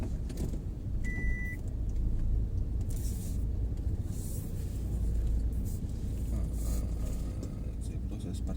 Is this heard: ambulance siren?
no